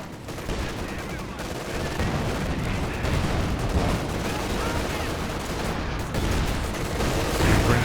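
Artillery barrage and continuous gunfire in a Company of Heroes 2 two-versus-two World War II battle, dense overlapping blasts and rattling shots forming a loud, sustained battlefield roar.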